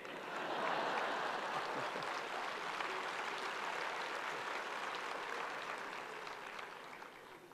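Sustained applause from an audience at a speech by Prime Minister Narendra Modi, a dense even patter of many hands holding steady for several seconds before easing slightly toward the end, with no talking over it.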